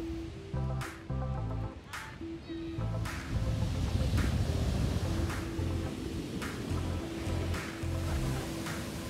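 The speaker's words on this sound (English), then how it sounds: "We take the coastal trail down to the ocean for an up close view." Ocean waves break and wash in steadily along the Half Moon Bay coast, a loud continuous surf roar heard close from the shoreline, with a few sharp splashes standing out.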